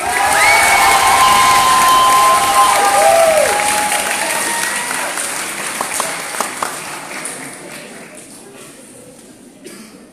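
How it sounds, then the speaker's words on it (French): Loud crowd applause with cheers and whistles at a debating and public-speaking contest, fading over several seconds to a few scattered claps. "veuillez applaudir Mathieu Le Temps."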